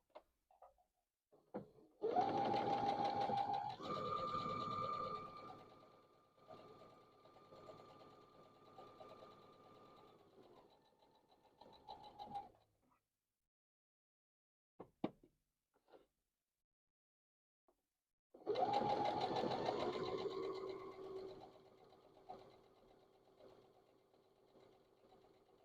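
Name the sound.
sewing machine stitching quilt block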